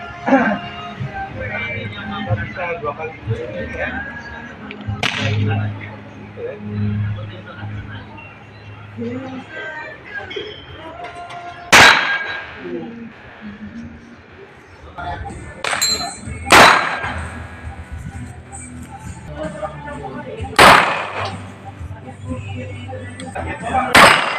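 Firearms fired at a shooting range during a sport shooting club training session, with several sharp, loud single shots spaced irregularly among people talking close by.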